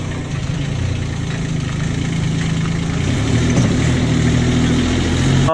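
A tractor engine idles close by, a steady low rumble that holds evenly throughout and swells slightly toward the end, with no talking over it.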